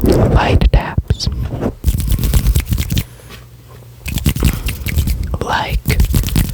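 Light fingertip taps on a microphone, a scatter of quick close clicks and soft scrapes in uneven bursts, interrupted by a short near-silent pause midway.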